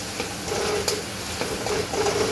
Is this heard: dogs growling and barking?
no